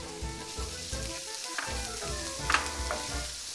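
Half a kilo of onion goes into two tablespoons of hot olive oil and sizzles steadily, a close, continuous frying hiss with a few sharper crackles and pops.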